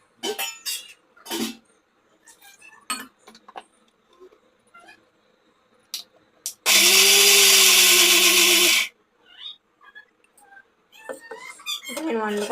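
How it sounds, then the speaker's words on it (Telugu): A mixer grinder whirs loudly through chutney for dosa in a home kitchen, one harsh burst of about two seconds that starts and stops abruptly, with a voice talking before and after. "చట్నీ ఆడడానికి మిక్సీ పట్టాలి కదా"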